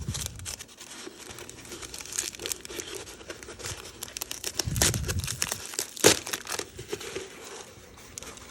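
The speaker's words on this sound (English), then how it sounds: "Guess we'll just continue with the ripping." Plastic plant packaging being ripped and crumpled up close while houseplants are unboxed, a continuous run of crinkling, tearing and crushing with louder rips near the middle.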